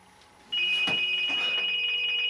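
A telephone rings with an incoming call, a sharp steady electronic tone that starts abruptly and carries on loud and close, with no one talking over it.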